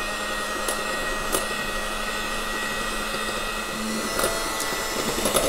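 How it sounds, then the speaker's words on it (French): Electric mixer whisking egg yolks in a bowl for a coffee dacquoise cream, giving a steady, loud whirring drone with faint clinks against the bowl and no talk. "On va donc maintenant mixer nos jaunes d'œufs comme ceci."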